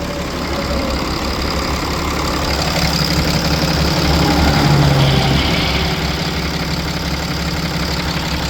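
A 6.7L Cummins diesel in a 2012 RAM 5500 with Aisin six-speed automatic idles steadily and loudly, a deep continuous rumble with a faint knocking texture and no talk.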